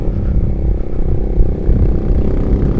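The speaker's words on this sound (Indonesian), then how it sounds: "Aduh, suara motor depan masuk nih." A motorcycle engine from a bike riding just ahead on a rural Indonesian road gives a loud, low, rumbling drone with wind buffeting, steady with slight surges throughout.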